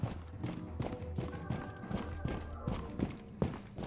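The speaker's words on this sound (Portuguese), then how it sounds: "Tô ouvindo um passo aqui." Footsteps in a Rainbow Six Siege match land as a steady series of close, heavy thuds, walking at an even pace.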